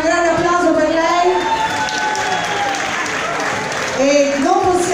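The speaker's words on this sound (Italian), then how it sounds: "Iniziamo con Alessia Marozzi, vorrei un grande applauso per lei." Loud, dense applause from an audience at a Latin night dance show, mixed with cheering and a voice calling over the crowd.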